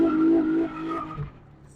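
An Infiniti G35 coupe clutch-kicked into a brief slide, engine note and tire squeal together for about a second, then fading as the car settles.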